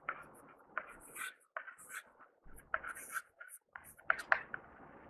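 Chalk or marker writing on a board during a math lesson, with short scratchy strokes in bursts that alternate with a teacher's quiet speech.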